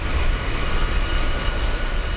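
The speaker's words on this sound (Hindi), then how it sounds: "अमेरिका के F-16 फाइटर भी गरज रहे हैं।" Fighter jet engines roar steadily during a seven-nation Desert Flag air exercise in the desert, a loud, continuous, broadband thunder with no voices.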